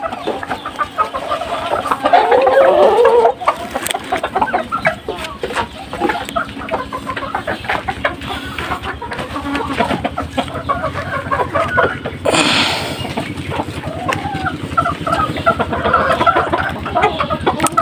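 Hens on a backyard poultry farm, including Golden, Black and White Cochins, cluck and murmur continuously up close, with scattered louder squawks and a brief flurry of wing flaps.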